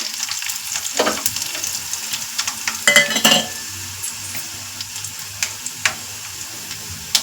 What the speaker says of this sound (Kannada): ಈಗ ಕರಿಬೇವನ್ನ ಹಾಕೊಳ್ತಾ ಇದ್ದೀವಿ